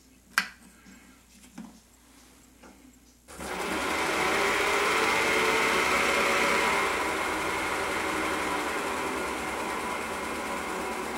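A lathe spins while turning a pen blank, its motor starting abruptly after a few light knocks and then holding a steady, close whirring hum to the end.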